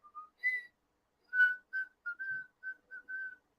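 A person whistles an imitation of a white-throated sparrow's song: a clear opening note, then a run of short, evenly repeated whistled phrases, close and alone against silence.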